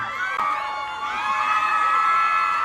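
A mini-concert audience at a shopping mall cheers and whoops, with shrill high voices and a sharp clap near the start, sustained close crowd noise with no music.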